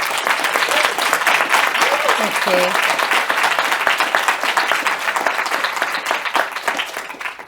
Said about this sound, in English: could we just give our 3 speakers another huge round of applause?